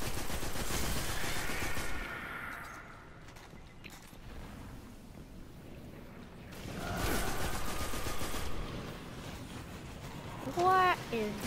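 Enemy gunfire in Destiny, rattling bursts of shots aimed at the player, loud at the start, fading, then returning, with a voice talking over it.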